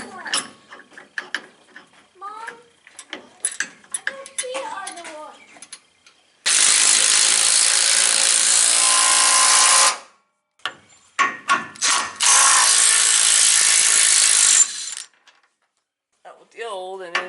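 Ratchet wrench torquing longer subframe bushing bolts on a unibody drift truck, two sustained bursts of dense rapid clicking, close and loud, separated by brief pauses with some speech and handling noises before and between.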